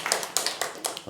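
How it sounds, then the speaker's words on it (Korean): An audience claps at a Buddhist dharma service in Korea. The hand claps are crisp and fairly steady in a quick rhythm, heard up close with no talking. "어쨌든 박수 받는 건 좋은 일입니다."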